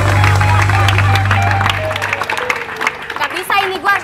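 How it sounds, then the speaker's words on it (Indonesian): A studio audience claps and cheers on a live Indonesian radio show, with a short burst of applause that fades out under talk. "Pokoknya tepuk tangan buat Soimah"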